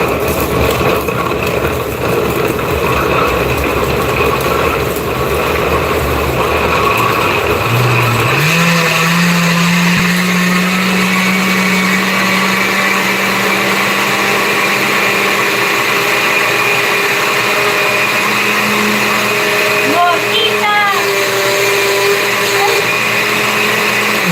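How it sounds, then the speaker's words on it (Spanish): A kitchen blender grinding sauce ingredients for chiles rellenos capeados, a loud continuous whirring motor whose pitch shifts and steadies partway through, with faint talk underneath. "La licuadora se emocionó"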